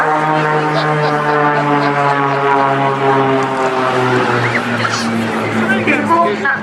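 Propeller aircraft drone loudly overhead at the Torbay seaside airshow, a steady sustained engine roar that shifts in pitch as the planes pass close by.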